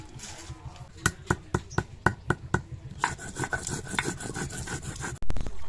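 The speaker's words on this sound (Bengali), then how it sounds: "গোটা গরম মশলা বেটে নেব।" Whole garam masala spices are ground on a stone with a slab-and-roller, starting as a run of sharp, evenly spaced knocks. A rougher grinding rub follows, close and alone, and ends on a heavier thud.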